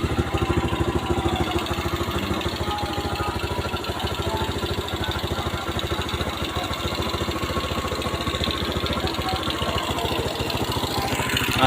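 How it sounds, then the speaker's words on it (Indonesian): A carbureted motorcycle engine idles steadily close by after its flooded carburetor was fixed, a continuous low rhythmic putter with slight clatter, running alone without talk. "Akhirnya motor ini bunyi juga ya teman-teman."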